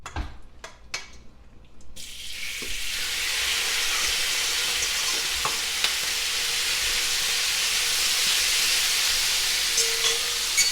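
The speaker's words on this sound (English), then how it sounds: "then we're gonna have some good sizzle" A few clinks of utensils, then a loud, steady sizzle of beef frying in hot oil that carries on without a break.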